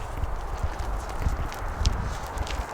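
Horse on a farm near High River, Alberta, shifting and stepping after being struck on the head by a tripod, with soft irregular hoof thuds on the ground close by.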